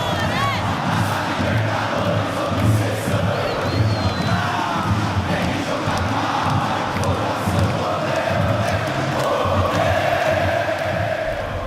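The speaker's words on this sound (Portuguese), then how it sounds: "Como a torcida canta também, né?" Palmeiras football supporters chanting together in a stadium, a dense, steady roar of massed voices that holds at a constant level for the whole stretch.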